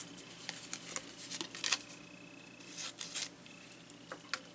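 Paper trimmed with scissors while crafting an Easter treat card with Stick-It adhesive sheet, a run of short, light snips and rustles close up, fairly faint and alone without talk.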